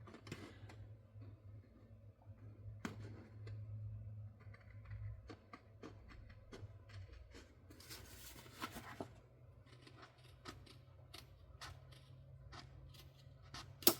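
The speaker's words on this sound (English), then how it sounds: "I'm just going to take my scissors, if I can find them, and I'm just going to just trim this off here" Scissors trim the edge of a paper template in a quiet room, giving a scattered series of small, close snips and clicks with faint handling noise in between.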